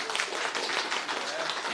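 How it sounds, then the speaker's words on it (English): Brief audience clapping at a startup pitch event, a short burst of scattered applause under a couple of seconds, fairly close and lively, with a few voices mixed in. "Let's have a round of applause."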